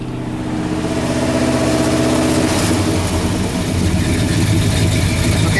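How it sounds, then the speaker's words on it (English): A Dodge van engine idling up close, loud and steady with a low rumbling drone and a slight rise in pitch partway through, alone with no talk. "okay, it's idling."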